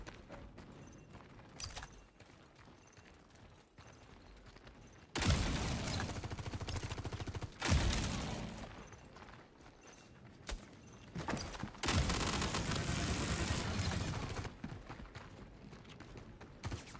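SMG gunfire in a first-person video game, bursts of rapid automatic shots arriving in loud dense stretches between quieter pauses, with no speech over them.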